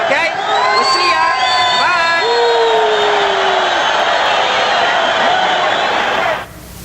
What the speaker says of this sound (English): Now all the people are here are going to cheer.